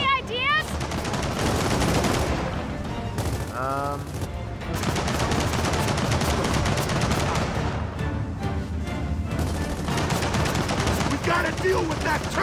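Sustained heavy turret gunfire in the video game Gears of War 4, a dense, continuous loud barrage with impacts and brief gaps, and a voice shouting over it.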